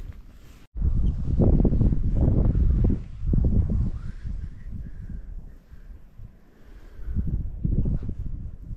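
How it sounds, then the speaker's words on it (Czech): Gusty, unpleasant wind buffeting the microphone outdoors while trout fishing in falling snow, loud low rumbling blasts that surge and ease in waves, with a sharp click near the start. "Fouká nepříjemný vítr."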